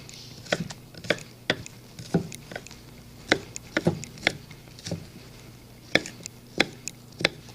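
Knife chopping onions on a cutting board, a steady run of sharp, close chops spaced irregularly, moderately loud with no talking.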